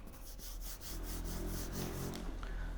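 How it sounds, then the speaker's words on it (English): Wind rattles a detached converted garage door with a steady, dense scraping clatter of irregular knocks that continues without pause. "And that sound is the wind rattling my garage door."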